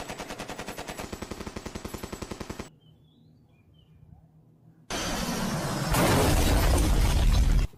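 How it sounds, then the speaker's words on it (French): Film gunfire from a Jean-Claude Van Damme movie scene in which a plane is destroyed: a rapid machine-gun burst, then a near-silent gap, then a loud, sustained roar of explosion and debris that swells further before cutting off. "Jean-Claude Van Damme détruit cet avion."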